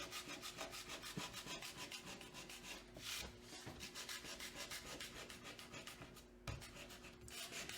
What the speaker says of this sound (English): go a little bit with my sanding into my faces, but not into my yellows